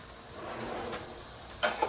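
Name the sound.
chorizo sausage popping while frying in a pan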